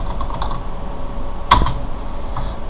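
A few faint keystrokes on a computer keyboard, then one sharper key press in the middle, over a steady background hum while a Minecraft admin command is entered.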